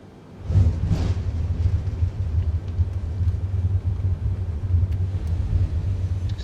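An airliner in Microsoft Flight Simulator rolls out after landing with reverse thrust engaged, a loud, deep engine roar surging in abruptly and holding as a steady rumble, with no talking.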